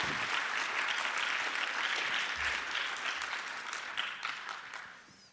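An audience at the Chaos Computer Conference applauds a speaker, a dense, steady burst of clapping that holds strongly before gradually fading toward the end.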